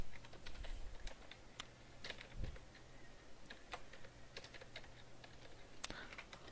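Typing on a computer keyboard while writing C code, a steady run of light, close key clicks with brief pauses and an occasional heavier keystroke.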